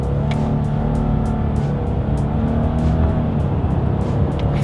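2020 Subaru Legacy with a CVT engine driven with paddle shifters, a steady loud engine drone heard from inside the car with a continuous hum and faint ticking, no talking.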